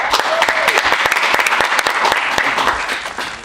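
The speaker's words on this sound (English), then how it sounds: "make some noise for my man, Lunchbagg." A crowd claps loudly and continuously, with dense applause and some scattered cheering, close and full for the whole stretch.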